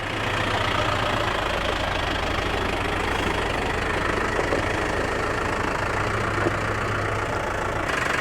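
A Case Maxxum 125 tractor engine runs steadily at a low idle, a continuous close diesel rumble with a faint knocking texture and no talking throughout.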